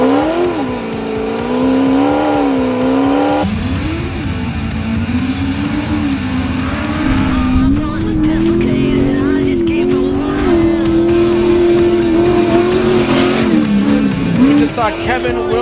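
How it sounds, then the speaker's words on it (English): A King of the Hammers race car takes off the start line with a loud engine roar that rises and shifts in pitch over several seconds, under excited talk, with a rougher, gritty stretch midway through. "Saw Kevin Williams take off the line."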